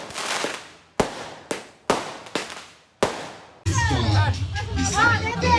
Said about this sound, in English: fireworks for celebration during the night before Arimoyang